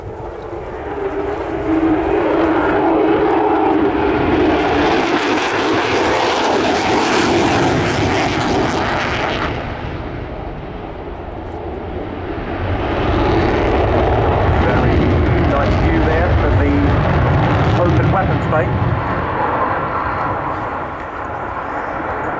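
An RAF F-35B jet roars through a display manoeuvre at the Royal International Air Tattoo, a loud continuous engine rumble that swells, dips briefly, then builds again over roughly twenty seconds.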